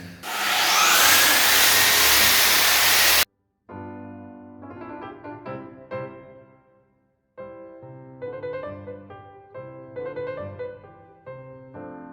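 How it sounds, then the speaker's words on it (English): A loud, steady roaring drone of a power sander sanding a kitchen floor runs for a few seconds and cuts off, followed by music playing. "I'm going to change back to the sanding attachment on that and just get going"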